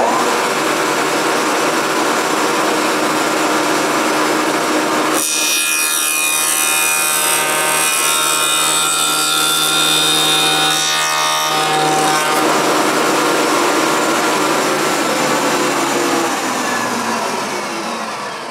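A spindle moulder fitted with carbide groover tooling runs as wood is fed through to cut tenons, a steady loud machine whine joined by a harsher cutting rasp for several seconds in the middle before settling back to the drone.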